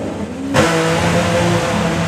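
A three-cylinder Triumph Rocket drag bike at a drag racing event blasts into a run, its engine snapping from idle into a loud, sustained high-revving roar close by.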